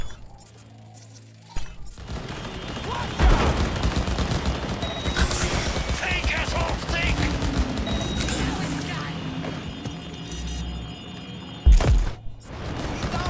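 Bursts of gunfire in Cyberpunk 2077 crackle through a busy combat scene, with a heavy shot near three seconds and another near twelve over a dense layer of rattling fire and game noise, while someone talks over it.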